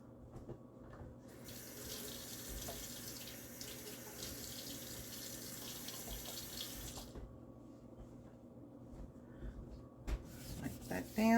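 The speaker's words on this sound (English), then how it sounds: "Let me wash my hands." Tap water runs steadily into a kitchen sink for several seconds while hands are washed, then stops abruptly, followed by faint clatter nearby.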